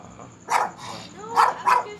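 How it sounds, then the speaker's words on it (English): A dog barking close by, three sharp yappy barks with a short pause between the first and the last two. "Look at this evil dog."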